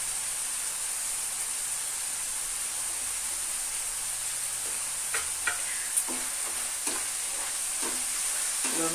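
Ground spice masala with coriander and cumin powder sautéing in oil for a spicy bhola fish curry: steady soft sizzle and hiss, joined midway by a few sharp stirring scrapes and clicks of a spoon against the pan.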